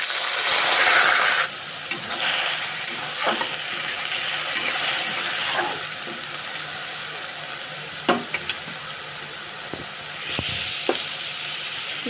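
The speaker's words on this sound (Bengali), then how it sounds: "যে কাঁচা লঙ্কার পেঁয়াজটা বেটে রেখেছিলাম ওইটা আমি তেলের মধ্যে দিয়ে দেব।" Ground green chili and onion paste hits hot oil in a pan and sizzles loudly for Bengali yogurt chicken. The frying settles into a softer crackle, broken by scattered clicks and scrapes of stirring.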